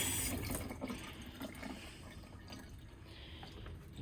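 Tap water runs into a sink throughout, a steady broadband splashing stream with some small dripping and clinking detail, fairly close and alone.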